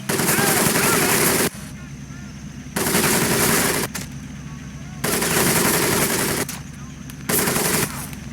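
Machine gun fire in the Medal of Honor Pacific Assault video game rattles in long sustained bursts, alternating with short pauses filled by a lower background rumble.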